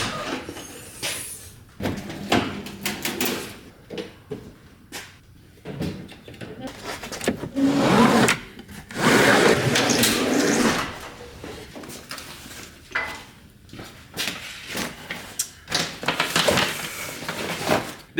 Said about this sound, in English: This is my 4-foot long drawer that slides out, and I store a ton of stuff in here.